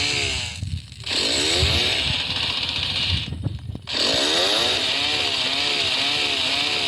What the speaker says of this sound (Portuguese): Olha que eu tenho motosserra.